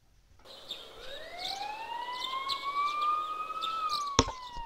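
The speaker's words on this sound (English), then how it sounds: "You can hear sirens in the distance." A siren wails faintly in the distance in the video game Persona 4 Golden, its pitch slowly rising, followed by a brief sharp click near the end.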